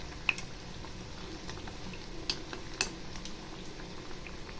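Bonda snacks frying in hot oil, a steady dense sizzle and bubble with a few sharp crackles, fairly quiet and continuous with no talking.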